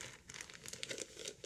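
A plastic zipper bag holding a caulk tube is folded and pressed flat, giving soft, close crinkling and rustling in short bursts, faint and with no talk.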